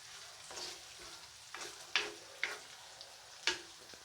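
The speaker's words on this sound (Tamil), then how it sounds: "வெங்காயம், பச்சை மிளகாய், பூண்டு, கருவேப்பிலை எல்லாம் வதங்கி கொண்டு இருக்குது" Onion, green chili, garlic and curry leaves sauté in a pan, giving a soft steady sizzle broken by several crisp stirring clinks and scrapes, faint and close with no talk.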